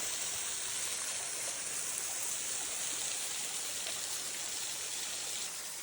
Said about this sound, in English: we made it to the bottom of the waterfall